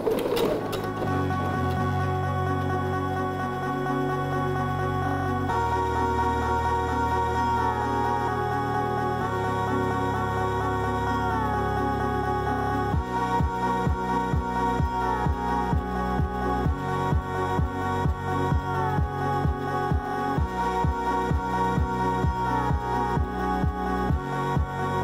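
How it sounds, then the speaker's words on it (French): A sewing machine runs a hem stitched 2 mm from a folded edge, its needle clattering in fast, even bursts with short pauses between runs, close and clear with no talking. "Donc je fais ici un repli de 1 cm et je vais coudre à 2 mm du bord"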